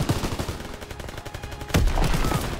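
A mounted machine gun turret in Call of Duty: WWII fires a rapid, continuous stream of shots, close and loud, swelling into a heavier burst near the end.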